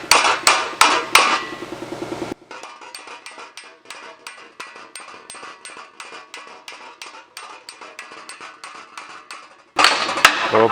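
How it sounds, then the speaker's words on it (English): A planishing hammer works a TIG-welded metal panel: a few loud, heavy strikes first, then a long run of fast, lighter rhythmic taps, ending with another burst of louder blows. "We'll bring it over to the planishing hammer and just give that a light planish."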